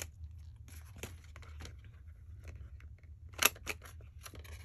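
Scissors snip a rounded corner into a catalog cover made for an 1800s Italian/French fashion plate catalog, a series of short close cuts with one sharper snip near the end, over a low steady hum.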